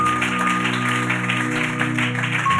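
A church congregation breaks into sustained applause, a dense steady wash of clapping heard over a soft held musical tone.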